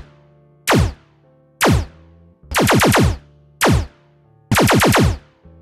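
A downloaded laser sound effect plays over shop speakers: five loud zaps, each a sharp descending sweep, some single and some in rapid triple bursts, spaced roughly a second apart over a low steady hum.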